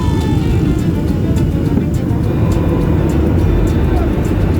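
From inside the cabin of a small airplane descending toward an airport with its landing gear down, loud constant engine and wind roar fills the air with a steady rumble and no talking.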